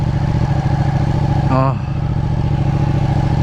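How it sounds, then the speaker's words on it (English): A loud Ducati 959 Panigale superbike engine in race mode roars steadily up close, with a brief rising rev partway through and a rough, throbbing exhaust. "I'm gonna get out and ride this motorcycle in race mode"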